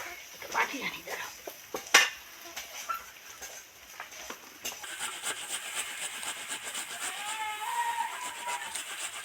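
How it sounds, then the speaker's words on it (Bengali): Onion rubbed against a kitchen grater in quick, faint scraping strokes, with a sharp clink and light utensil handling mixed in. "একটা পেঁয়াজ গ্রেট করে নিচ্ছি"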